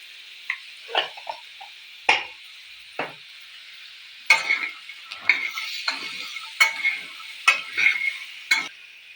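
Boiled chickpeas fry with oil and cumin in a pan under a steady bright sizzle, with sharp scrapes of a spoon stirring at irregular intervals, close and fairly loud, with no talk.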